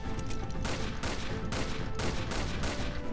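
Gunfire in the Roblox game Zeppelin Battle rattles in dense, rapid overlapping bursts of shots, loud and continuous throughout with hardly a pause.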